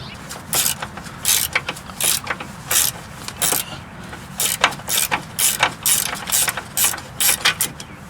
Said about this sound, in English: I'm going to use a Torx bit to hold the stud and a 14 millimeter gear wrench ratcheting ratchet